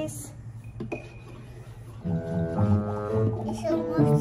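Magic Mixies toy cauldron being stirred, with light clinks and scraping early on, then a voice and bright toy-like tones rising over the mixing.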